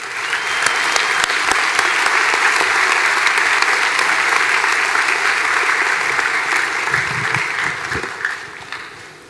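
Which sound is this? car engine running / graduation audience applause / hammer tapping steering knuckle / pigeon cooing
graduation audience applause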